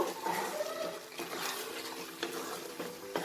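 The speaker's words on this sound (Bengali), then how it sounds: "গ্রেভিটা দিয়ে আমি ভালো করে একটু নাড়াচাড়া করে নেব।" Chicken stirred through Afghani gravy in a pan gives soft scraping and wet sloshing with faint utensil clinks against the pan, steady and fairly quiet over a few seconds.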